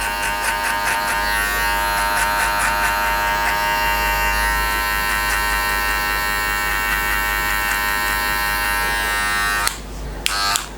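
Electric hair clippers fitted with a number 1 metal guard buzz continuously and close up while blending a skin fade, a steady bright whine with subtle shifts as the blade moves, then a brief clatter as it ends.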